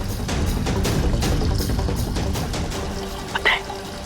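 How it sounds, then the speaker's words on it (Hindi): Water runs steadily from a tap into a tank, a continuous rushing, splashing flow that stays fairly loud throughout, with a brief sharper sound near the end. "अब बस नल में से पानी बहता रहेगा और टंकी खाली हो जाएगी"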